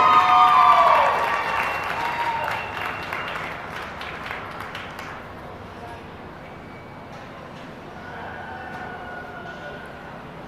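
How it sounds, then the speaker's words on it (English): Audience applause and crowd noise at the results of a youth market and breeding goat show, loudest at the start and slowly tapering off across several seconds. "Big round of applause, please."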